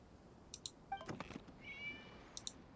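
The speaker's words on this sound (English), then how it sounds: "It was just a cat." A cat meowing in the video game Genshin Impact, a short, faint, drawn-out mew followed by a few small chirps and clicks over quiet game ambience.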